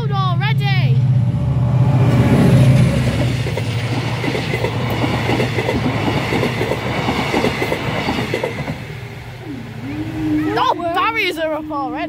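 Locomotives 47773 and 20189 roar through Malton at full power, a loud, sustained rumble with rhythmic wheel clatter. Voices talk over the start, and a whistling, rising tone comes near the end.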